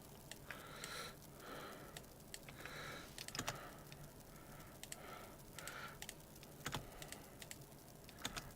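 Faint, quiet computer keyboard typing comes in scattered bursts of clicks with short pauses between them.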